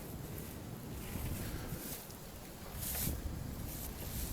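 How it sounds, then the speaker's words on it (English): Very cold wind gusting across the microphone outdoors at a shooting range, a continuous broadband rumble and rush swelling louder in a strong gust toward the end. "We do have some wind problems here too. Very cold wind today."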